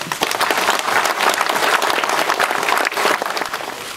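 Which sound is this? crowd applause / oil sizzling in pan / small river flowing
crowd applause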